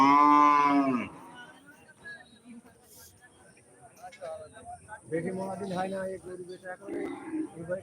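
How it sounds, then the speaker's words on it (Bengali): A large cow at a small livestock farm gives one loud, close, drawn-out moo, followed by people talking nearby. "একটা বড় গরু দেখো এক লাখ কুড়ি হাজার টাকার গরু"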